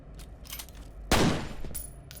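A single loud gunshot blast from the first-person shooter game F.E.A.R.: Extraction Point bursts out mid-clip and decays over about half a second, set against quieter game ambience.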